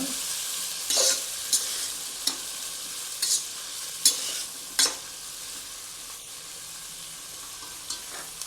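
A spoon stirring dal in a pot makes a series of brief scraping strokes spaced a second or so apart over a soft, steady simmering hiss, close by and with no talking.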